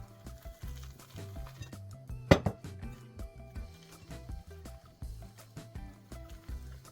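Cake batter is folded slowly in a bowl, soft low swishes and scrapes with occasional utensil clinks and one sharper knock against the bowl, close up and without speech.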